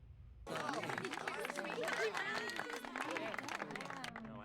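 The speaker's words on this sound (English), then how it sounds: "Why the fuck are they applauding?" Studio audience applause in the Buffy the Vampire Slayer episode 'Earshot': a dense, steady wash of clapping and crowd noise that starts abruptly and holds throughout, with voices and tonal sounds layered over it.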